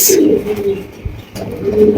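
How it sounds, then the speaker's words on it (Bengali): A pair of Lahori pigeons coo close by in low, throaty rolling calls, with a brief pause in the middle before the cooing resumes. "এখানে দেখতে পাচ্ছেন একজোড়া লাহোরি কবুতর"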